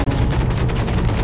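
Assault rifle fire in the mech shooter Hawken, a loud, dense stream of rapid automatic shots hammering without pause, close and alone.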